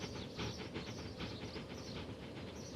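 Class 139 train running in the video game Transport Fever: a steady rumbling drive with rhythmic clicking over the rails and hiss, heard close and continuous throughout.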